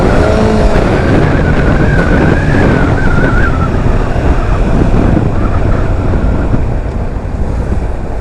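Loud, blustery wind roars over an engine as a motorcycle is ridden with its tire slipping, the rush steady and close for the whole stretch, with a few faint higher whines drifting through and no talk.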